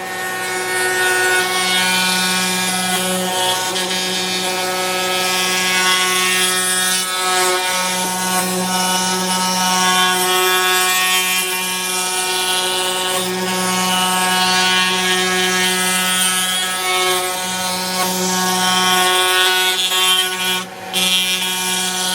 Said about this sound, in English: we're going to do this on the router with a 1/4-inch bit and round over bit